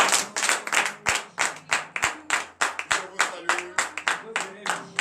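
A congregation claps hard during a Wednesday morning prayer service in Benin, sharp rhythmic claps in a steady beat, close and loud, with faint sung or spoken tones underneath.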